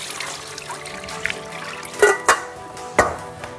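Washed potato chips draining after rinsing out the starch, a soft, faint trickle of water with a few brief splashy bursts near the end, no voices.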